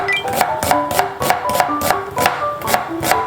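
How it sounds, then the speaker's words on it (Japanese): A knife chops through onion on a cutting board for pizza topping, about a dozen crisp, evenly spaced knocks in a quick steady rhythm, close and clear with nothing else over them. "ピザ用に玉ねぎを薄く切ります。"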